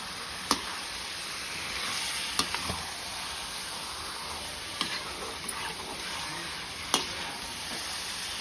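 Chicken with onion and tomato sizzles in a pan while being stirred, a constant frying hiss broken by occasional sharp spoon knocks against the pan, with no talking.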